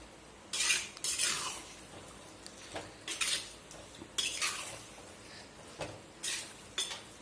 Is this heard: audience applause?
no